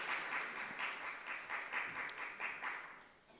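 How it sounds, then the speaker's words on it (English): An audience at a national sports conclave applauds steadily, the clapping faint and somewhat distant, swelling in gentle waves before it fades out. "A big round of applause, ladies and gentlemen, for Mr. Rakesh Rao,"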